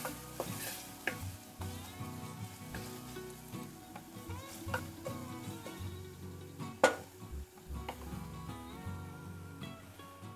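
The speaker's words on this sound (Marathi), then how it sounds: "अगदी लालसर नाही, पण साधारण गुलाबीच्या थोडं जास्ती परतायचं आहे. हे जरा पेशंटली परतायला लागतं." Onion-masala sautés in a pan for tinde curry, with a soft sizzle under repeated scraping and clinking as a spoon stirs it. The sound is close, steady and moderately quiet, with one sharper knock partway through and no speech.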